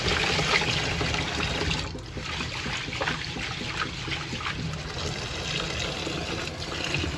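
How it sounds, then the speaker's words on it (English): Rice is rinsed in water: steady splashing and trickling with faint clinks, close by and continuous, with no talking. "you're gonna rinse this rice until the water is no longer"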